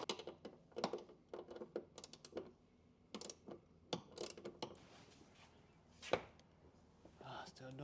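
A car door check strap being repaired makes a series of sharp mechanical clicks and clunks in irregular bursts as the door swings, with quieter gaps and one louder knock near the end.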